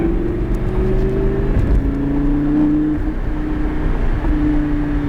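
A car engine revs and pulls forward during a driving lesson, a steady loud whir with rising engine tones that climb, drop and climb again as the car gathers speed, heard up close from inside.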